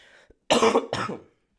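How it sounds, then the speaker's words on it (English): One person coughs twice in quick succession, two harsh, close bursts with a short gap between them, preceded by a faint throat noise. "Coughing still."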